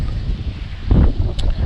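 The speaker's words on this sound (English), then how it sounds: "The wind's gusting a little bit," Wind gusting across an open rural property, a steady low rumble of wind noise on the microphone that swells into a stronger gust near the end.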